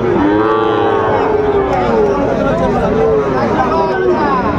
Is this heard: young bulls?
yes